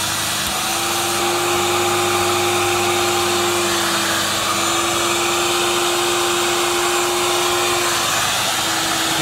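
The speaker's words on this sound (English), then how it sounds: "And then vacuum it out." A Castex PX2 shampoo vacuum extracting a car seat runs loud and steady, a continuous motor whine and airy suction roar with a constant pitched hum throughout and no speech.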